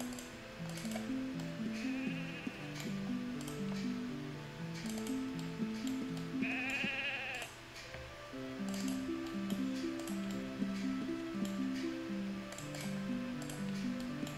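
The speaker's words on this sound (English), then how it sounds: "Really many sheep around here." A single short sheep bleat sounds from the video game Ultima Online, faint under continuous game music, partly masked by clicks and ticks.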